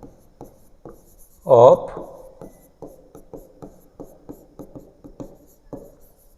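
Marker or chalk writing on a board during a physics lesson on spherical mirrors, with a run of short, evenly spaced scratchy strokes. A teacher's voice cuts in briefly near the start.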